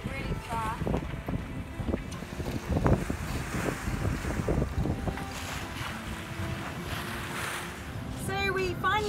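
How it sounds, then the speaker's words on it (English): A sailboat with its engines off heels over in a strong wind among whitecaps, with wind buffeting the microphone and water rushing along the hull, while people talk faintly in the background. "we're sailing, we turn the engines off, and there's even white caps"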